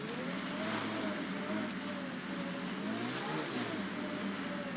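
A car engine revs and surges in Mass Effect Andromeda, a steady mid-pitched drone rising and falling in two broad swells over a constant wash of noise.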